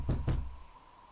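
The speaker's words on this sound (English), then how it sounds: "no knocking past 12 o'clock, please" Knocking in the horror video game Cry of Fear, two dull, heavy knocks in quick succession that fade into a low background hum.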